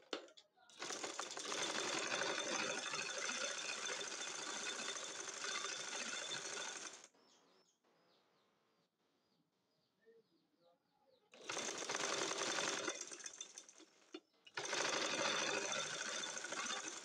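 An electric sewing machine stitches fabric for a two-colour Naira dress, whirring close and steady for several seconds, falling quiet briefly, then running again in two shorter bursts.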